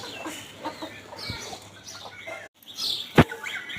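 Chickens and ducks feed on rice grains in a farmyard in the morning, with soft clucks and scattered chirps at close range and one sharp louder call near the end.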